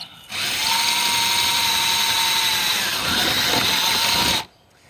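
A power drill whines steadily at close range for about four seconds, grinding through thin metal while installing a Max Air fan, then stops abruptly.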